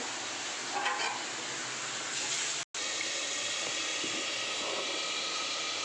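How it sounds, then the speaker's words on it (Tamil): Tomatoes sauté in a covered pan, giving a steady, dense hiss of sizzling that fills the whole stretch, briefly cut off once, close and even with no talk. "நன்றாக 2 மினிட்ஸ் தக்காளி வதங்கணும்"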